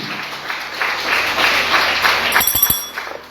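A church congregation bursts into applause during a Sunday service, a dense wash of clapping that swells for a few seconds before tapering off.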